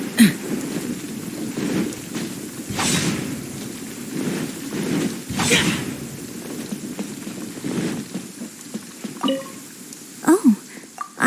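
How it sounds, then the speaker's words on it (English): Steady rain with rolling thunder rumbles in Genshin Impact, a couple of heavier cracks standing out, over a game soundscape with faint effects and no speech. "Demons do not stop for the rain."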